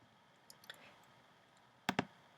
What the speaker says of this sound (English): So click on the filter icon